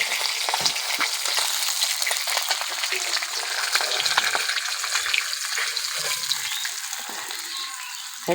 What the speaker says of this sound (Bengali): ওই তেলেতে ফুলকপিগুলো ভেজে ভেজে তুলে নেব